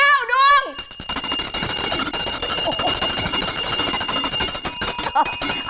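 A bright electronic bell notification chimes on a Thai live stream, ringing out with sustained tones over a busy background while someone talks excitedly.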